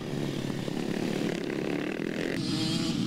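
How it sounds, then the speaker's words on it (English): A high-revving two-stroke racing motorcycle buzzes past, its raspy engine note steady and loud, then shifting pitch as it goes by. "that's definitely a two-stroke that you can hear coming through your shot now"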